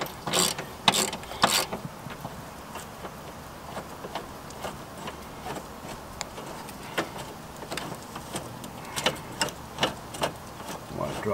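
A hand ratchet loosens screws on the cooling fan of a 2015 Nissan Pathfinder, giving bursts of rapid clicking pawl ticks close up, separated by pauses and quieter handling clicks.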